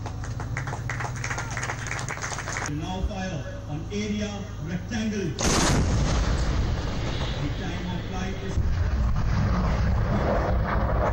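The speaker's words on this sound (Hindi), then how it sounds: "3 मिनट में इस तोप से 15 गोले एक साथ दागे जा सकते हैं।" Artillery gun firing shells in a field test: heavy booming blasts with rumbling echoes over constant loud broadband noise, one strong shot near the middle and another toward the end.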